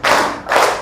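Two broad, loud claps in unison from a group of children clapping along with their teacher in a classroom, evenly spaced about half a second apart.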